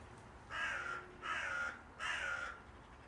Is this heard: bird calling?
yes